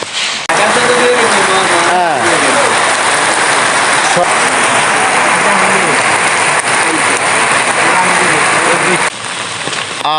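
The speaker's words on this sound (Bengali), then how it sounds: "আটটার সময়ে এই বৃষ্টিটা হচ্ছে" Heavy morning rain pours loudly and steadily on surfaces, filling the whole scene, while people talk faintly underneath.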